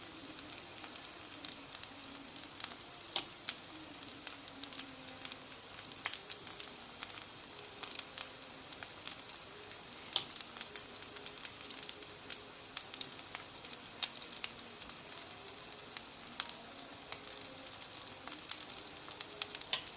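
Eggplant fries in a covered pan: soft, continuous frying crackle with scattered faint pops, steady and muted under the lid, with no voices.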